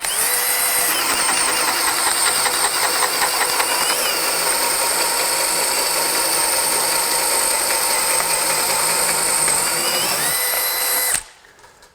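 A DEWALT 20V DCD1007 cordless hammer drill runs at a steady high-pitched whine with a rapid hammering buzz, close and loud, then stops abruptly near the end.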